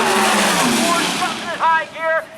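Drag racing cars launching down the strip at Maryland International Raceway, a loud roaring blast that fades into the distance, then sharp rising engine revs as cars shift gears, with an announcer talking over it.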